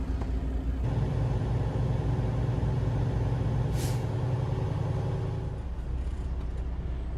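A truck engine idles after a restart while its air brake system builds pressure, a loud steady low rumble with a constant drone, a short hiss partway through, and the pitch dropping slightly near the end.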